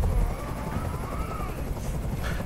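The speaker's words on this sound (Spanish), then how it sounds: "¡Haz que ese helicóptero se vaya!" Helicopter hovering in the video game Detroit: Become Human, a steady low rotor rumble and broadband roar that holds constant throughout, loud and close.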